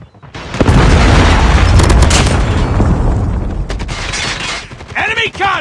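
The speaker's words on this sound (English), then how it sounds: "Predator missile inbound." Predator missile strike in Call of Duty: a loud, sustained booming explosion with rumbling gunfire layered through it, fading into scattered shots and a voice near the end.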